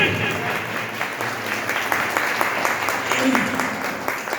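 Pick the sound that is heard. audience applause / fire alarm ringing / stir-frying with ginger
audience applause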